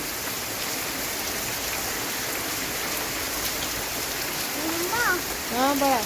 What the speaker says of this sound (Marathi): खूप मोठा पाऊस आला मी तुम्हाला दाखवते